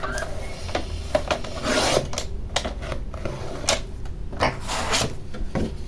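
Close scissors or blade cutting through paper for a folded flap box, a run of short rasping strokes and rubs with brief pauses, no speech.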